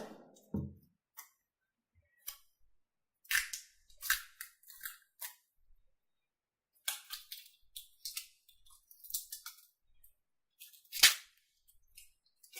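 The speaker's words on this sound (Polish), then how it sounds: "Jeszcze oderwę tą folię." Protective plastic foil peeled off a new Logitech C270 webcam, giving a run of short crinkly tears and crackles, close and fairly loud, in bursts separated by pauses, with no talk.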